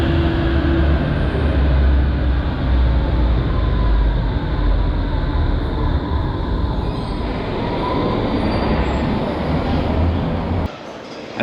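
A Berlin U-Bahn or S-Bahn train rumbles loudly and steadily from up close, with rail and wheel noise for about ten seconds before it cuts off abruptly near the end.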